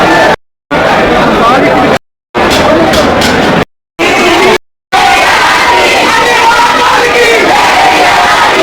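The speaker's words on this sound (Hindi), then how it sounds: "बहुत ज्यादा भीड़ है मंदिर में" Inside Banke Bihari temple in Vrindavan, a dense crowd of devotees roars with loud, continuous shouting and chatter, cut by several brief moments of total silence.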